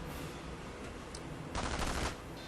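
Thompson submachine gun fire in the Company of Heroes strategy game: a short burst of rapid automatic shots rings out over a busy battle ambience, moderately loud but somewhat distant.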